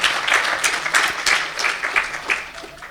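Applause rises from an audience at a Swaminarayan religious discourse on aarti, honouring a swami after his talk, as a few seconds of moderately loud, somewhat uneven clapping in several swelling bursts.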